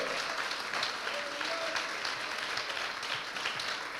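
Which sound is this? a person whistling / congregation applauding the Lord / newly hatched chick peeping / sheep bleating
congregation applauding the Lord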